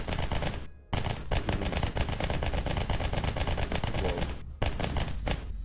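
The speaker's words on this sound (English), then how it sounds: "And then we have the SMG, which I think has custom sounds." Rapid bursts of modded SMG fire with custom sounds in Space Engineers 2, loud and close, sustained automatic rattling broken by two brief pauses.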